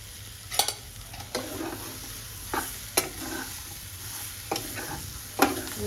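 Green, yellow and red capsicums sauté in a pan, with several sharp scraping stirs of a spatula over a steady low sizzle, close and moderately loud, with no talking.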